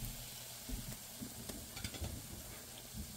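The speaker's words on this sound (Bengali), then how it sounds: "এভাবে আমি সব পিঠাগুলো ভেজে নেব।" Pitha frying in a little oil in a pan, a faint, steady sizzle with occasional soft pops and stirring clicks.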